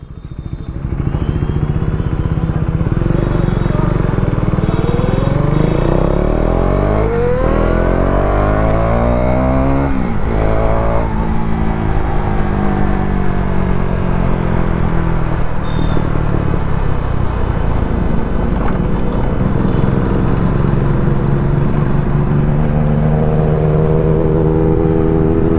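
Motorcycles revving and accelerating during a night ride, engines loud and continuous throughout with rising and falling pitch sweeps as the bikes speed up and shift, a steady close rumble with no talk over it.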